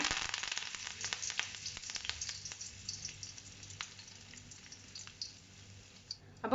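Curry leaves sizzling in hot oil in a kadai over a high gas flame, a close dense crackle with sharp pops and spits that gradually thins out.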